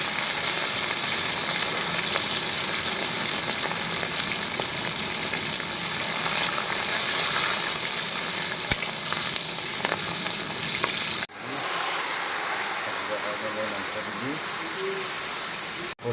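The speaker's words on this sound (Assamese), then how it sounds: "পুৰা তেলত পুৰা মাংস ভাজি আছোঁ।" Goat meat fries in oil with potatoes, giving a steady, fairly loud broadband sizzle that runs unbroken for the whole stretch, with a brief dip near the end and no talking.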